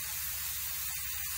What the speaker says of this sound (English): there's a steady stream of steam